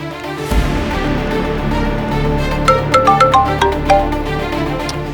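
A phone ringtone plays a short melodic pattern of bright notes over a low steady hum, heard close and clear.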